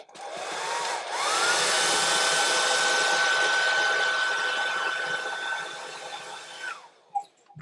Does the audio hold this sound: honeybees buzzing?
no